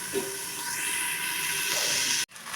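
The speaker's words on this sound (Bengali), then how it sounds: "ভেন্ডিটা আমার খুবই ভালোভাবে ভাজা হয়ে গেছে" Sliced okra (bhindi) fries in a pan with turmeric powder and salt over low heat, giving off a steady, close sizzling hiss that runs without a break until a sudden cut near the end.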